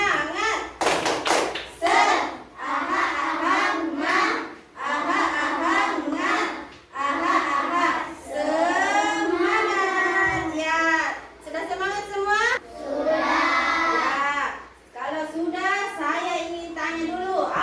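Children in a classroom perform the rhythmic tepuk semangat clapping chant, chanting in unison with sharp claps and thumps falling in repeated patterned bursts separated by short pauses.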